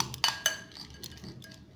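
Peanut chaat ingredients are mixed in a bowl, giving a few sharp spoon clinks against the dish and then softer, quieter stirring sounds, close and faint.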